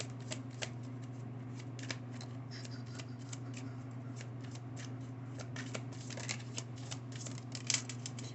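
Oracle cards in a pick-a-card reading are shuffled in a quiet room, giving a steady run of soft, papery riffling and flicking with small clicks throughout, over a low constant hum and with no speech.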